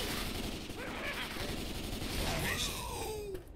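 Gunfire from a Left 4 Dead 2 lighthouse finale battle rattles continuously over dense game noise, with groans and a couple of voices mixed in throughout.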